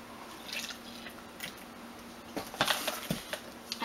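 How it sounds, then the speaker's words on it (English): Liquid color mix poured into a white container, a soft trickling patter with faint drips that grows a little louder near the end, heard up close and with no talking. "So I'm going to pour half into each container"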